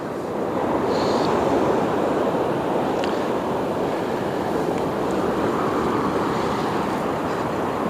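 Ocean waves break over a sandbar with six- to nine-foot surf, forming a loud, continuous rushing roar with little variation throughout.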